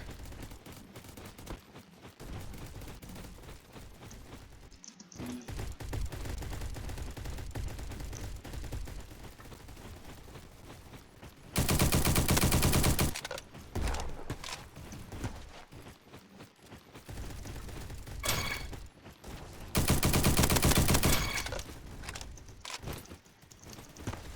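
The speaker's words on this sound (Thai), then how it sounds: "ปืนมันแรงจังวะ" Video game gunfire rings out in rapid, loud bursts, with two especially intense sustained volleys standing out amid continuous clattering action.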